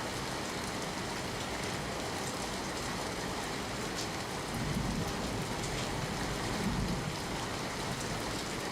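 Heavy downpour in Dahod district, Gujarat, a dense steady roar of rain hitting surfaces throughout, with a low rumble swelling in the middle.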